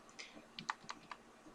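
Keys clatter on a computer keyboard while working in Adobe Photoshop, a handful of quiet, irregular clicks over about a second and a half, close and faint with no voices.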